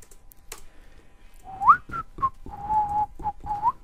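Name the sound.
person whistling while playing Minecraft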